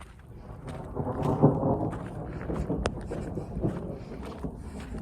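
Rain and thunder during a storm over a village in Nandgaon, a steady rushing wash of rain and wind with a low rumbling swell and a brief sharp crack near the middle, no talk.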